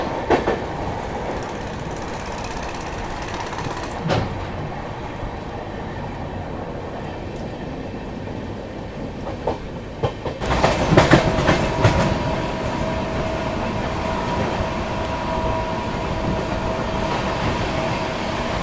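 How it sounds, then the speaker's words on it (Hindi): The Bihar Sampark Kranti Express runs at high speed past Ghaziabad Junction, heard from inside as a steady loud rumble with rhythmic clickety-clack of wheels and a rush as another section passes midway. "अपनी ट्रेन गाजियाबाद जंक्शन को काफ़ी अच्छी हाई स्पीड में स्किप कर रही है"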